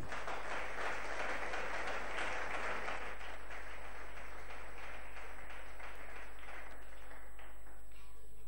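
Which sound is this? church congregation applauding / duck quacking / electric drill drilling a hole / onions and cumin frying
church congregation applauding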